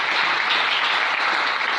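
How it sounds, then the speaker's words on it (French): A church congregation breaking into loud, steady applause, many hands clapping together in a dense, even wash of sound. "Est-ce qu'on peut acclamer le Seigneur?"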